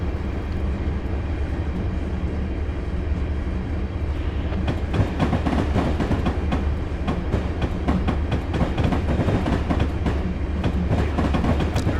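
Train in Train Simulator 2015 coasting along the Johnstown to Altoona route near Horseshoe Curve, a steady low rumble of rolling wagons with rhythmic clickety-clack over rail joints that grows busier midway, heard alone without voices.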